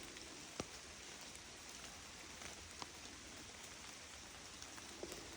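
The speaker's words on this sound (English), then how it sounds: "all you hear is rain." Steady rain patters evenly throughout, with a few louder drips landing nearby over the constant hiss.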